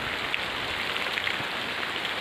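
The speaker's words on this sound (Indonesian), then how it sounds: "Ini hujan deras teman-teman." Heavy rain pours down in a forest under bamboo trees, a dense, even, loud hiss with no break and a few faint drips standing out.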